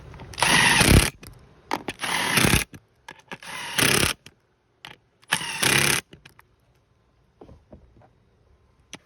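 Ratchet tightening four 10mm seat bracket bolts on a Kawasaki 310 motorcycle: several loud bursts of rapid ratcheting clicks separated by pauses, then quieter scattered clicks and taps near the end.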